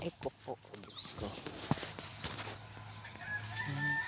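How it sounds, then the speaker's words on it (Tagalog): Chickens being fed on a provincial farm, with scattered clucks and a brief crow amid shuffling and handling noises, fairly faint and close. "nagpakain po kami ng mga manok"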